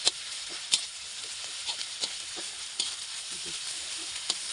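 Thai red curry paste frying in a wok as the base for a pork belly stir-fry, giving a steady close sizzle with scattered crackles and spits throughout, no voices.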